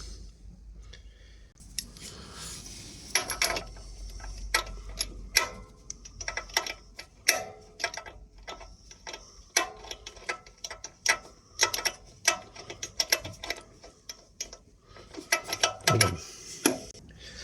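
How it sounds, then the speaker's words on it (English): Ratcheting clicks from a spark plug spanner turning a plug on a 2 kW NUTOOL generator, close and crisp, in irregular bursts of rapid ticks with short pauses, no talking. "my spark plug spanner, I have to remove the cap for the spark plug spanner to fit"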